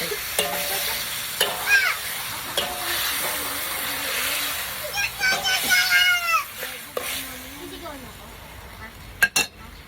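Food being stirred in a cooking pan, with scraping and clinking of a utensil against the pan over a steady frying hiss, while a voice talks intermittently nearby.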